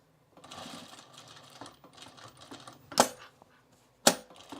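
Home sewing machine stitching Mitchell trousers, a steady run of motor hum and needle clatter with two sharp louder clacks near the end, close and alone.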